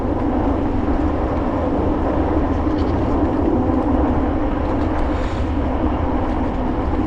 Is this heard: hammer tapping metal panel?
no